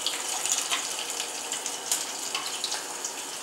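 Shrimp wontons frying in hot oil, giving a continuous bright sizzling and bubbling hiss with small crackling pops, close and steady without any talk.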